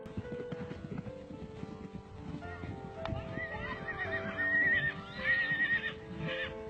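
Horses whinny and neigh shrilly as a mare fights off another horse attacking her foal, amid scuffling hooves and rough movement, the calls growing louder toward the end over a low outdoor rumble.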